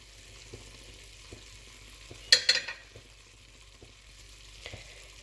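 Potato karahi being mixed in a pan over a low stove, with a brief cluster of scraping and clattering stir strokes in the middle over a faint, steady sizzle, plus a few soft knocks.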